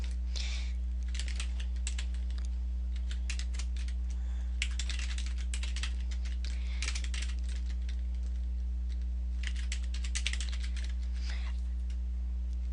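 Someone types on a computer keyboard while entering a password for a new WordPress user. Keys clatter in quick, uneven bursts close by, over a steady low hum.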